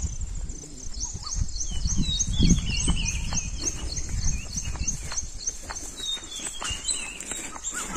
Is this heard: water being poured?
no